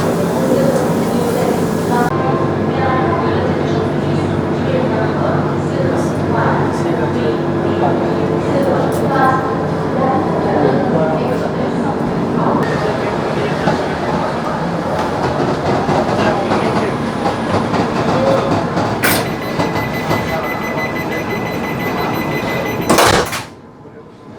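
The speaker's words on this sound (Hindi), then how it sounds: "ट्रेन कानपुर सेंट्रल से निकलकर अब पटना की ओर जा रही है।" Tejas Express train running at night from Kanpur Central toward Patna, heard from inside as a loud continuous rumble with rhythmic clickety-clack of wheels on rail joints, someone talking over it, ending in a sharp clatter.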